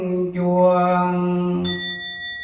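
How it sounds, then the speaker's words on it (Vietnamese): A sustained chanting voice holds low, steady tones in a Buddhist setting, then a small temple bell is struck once, leaving a clear, high ring that lingers to the end. "Quý vị thấy tiếng chuông rất là hay ha, rất là ý nghĩa, nhỏ mà thanh ha"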